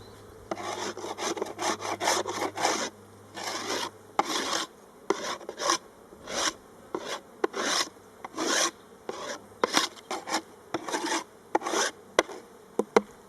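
Bursts of rasping scrapes as a hive tool cleans wooden beehive frames during a spring inspection, irregular strokes broken by pauses, with a faint buzz of bees in between.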